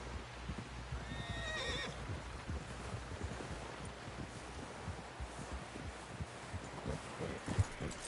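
A horse whinnies loudly once near the start in Red Dead Redemption 2, then hooves clip-clop steadily over rustling ground and light wind for the rest of the stretch.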